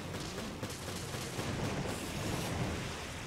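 Dense, continuous gunfire from the video game Resident Evil Revelations, loud and unbroken across the whole stretch, with rapid shots blurring into one another and no talk over it.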